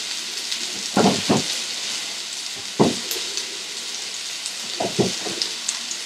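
Curry leaves dropped into hot oil, a steady hiss of frying punctuated by several sharp crackling bursts as the leaves hit and spit.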